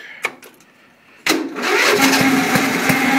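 A Briggs & Stratton 12 hp engine on choke catches after a few faint clicks and bursts into a loud, steady running rumble that holds close by, with no talking over it.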